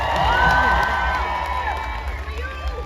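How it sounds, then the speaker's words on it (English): A festival crowd at a closing ceremony cheers and claps in a dense, loud wash, with shouts and whoops mixed in and a voice faintly heard over the noise. "Huge round of applause."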